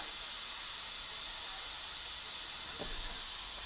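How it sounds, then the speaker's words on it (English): Steady broadband hiss of steam venting from an Instant Pot pressure release valve, continuous and fairly even throughout, with no voices. "So don't put a towel over the top to hide the steam. Let that steam come up."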